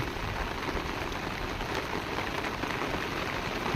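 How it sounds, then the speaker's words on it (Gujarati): Heavy rain pours down steadily and loudly, a dense even hiss of drops hitting surfaces up close with no break and no voices. "ફૂલ ચાલુ વરસાદ છે અત્યારે મિત્રો"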